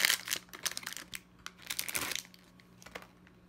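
Packaging from an acrylic nail collection crinkles and rustles as it is opened, a busy close-up stream of crackling, crumpling plastic with a few sharper crunches and brief quieter gaps.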